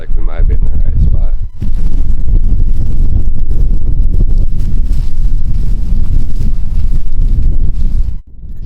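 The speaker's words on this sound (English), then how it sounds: "As you can probably tell, it's very windy right now." Strong wind buffets the microphone in heavy, rumbling gusts that nearly drown out a voice talking underneath, outdoors on a Texas turkey hunt.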